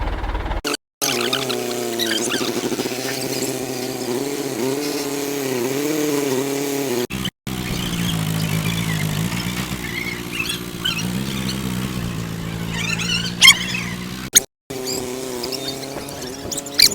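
A tractor engine idles and revs with a steady, throbbing drone as it pulls a large Ganesh idol out of a shed, loud and close, its pitch rising and falling with the throttle, broken by a few brief dropouts.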